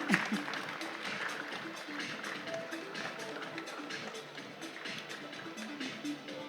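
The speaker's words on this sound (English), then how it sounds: "Can we have a round of applause for him?" Steady applause from a crowd, dense clapping filling the room at an even level throughout, with some voices mixed in.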